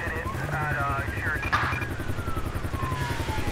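A video game helicopter's rotor thumps steadily beneath overlapping voices, with a rising and falling tone sweeping through the mix.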